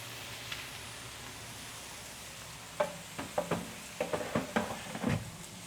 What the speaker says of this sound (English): I'm gonna leave those a few more moments to get a little better sear